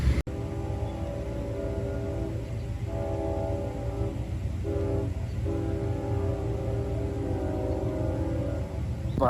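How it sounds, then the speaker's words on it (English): A big coal train with loud distributed power units rolls past, a steady, heavy rumble that fills the whole stretch while its horn holds sustained tonal blasts over the roar, with no one talking. "I got another train coming northbound."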